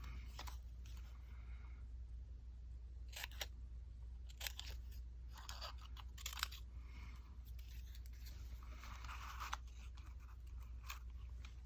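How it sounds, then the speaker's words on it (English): Scissors snipping paper for a collage journal, a series of quiet, close crisp cuts in irregular bursts with soft rustling between them, faint against a low steady background hum. "I can't cut and talk at the same time."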